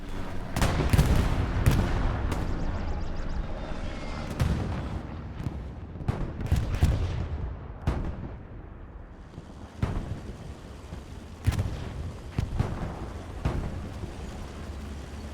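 Gunshots in Hell Let Loose during a competitive match, a string of loud, sharp reports at irregular intervals, some close and booming, with reverberant tails and quieter stretches between.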